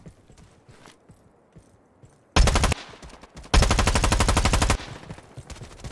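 Rapid automatic gunfire from a shooter video game, arriving as two loud, dense bursts of fast, even shots: a short one, then a longer sustained volley, over quieter in-game background noise.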